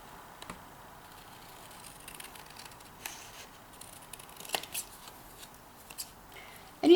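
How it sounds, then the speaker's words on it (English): Scissors trimming the edges of Druid Craft tarot cards, with faint, close snips and paper rustles spread irregularly over a quiet background and a louder snip near the end. "I always start at the bottom, so I'm sure that I do not cut that name of that card off."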